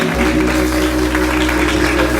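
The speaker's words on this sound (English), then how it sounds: "Let's give her a round of applause." A loud, dense wash of audience applause fills a church during an honoring ceremony, continuous clapping with no speech over it.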